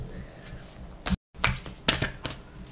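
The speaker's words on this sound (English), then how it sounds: "Now I will shuffle them." Oracle cards are riffled and shuffled hand over hand in several quick, crisp bursts with brief pauses between them, close up and fairly quiet.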